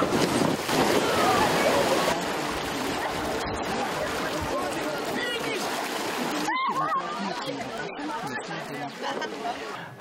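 Children land in the water at the bottom of a water slide, with bursts of splashing and churning water under constant crowd chatter and shouting voices nearby.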